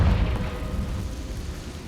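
A Confringo fire-blast spell from Hogwarts Legacy lands with a loud, deep boom that rumbles off and fades over a couple of seconds, with no voices over it.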